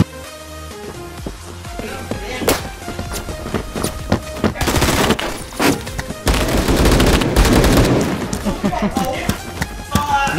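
Gunfire crackles through a Roblox Phantom Forces match: sharp single shots, then heavy sustained bursts of automatic fire, loud and close, with a voice talking over parts of it.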